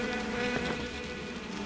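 Buzzing bees in Metal Gear Solid, a steady droning hum with layered tonal harmonics that holds continuously at a moderate level throughout, with no talk over it.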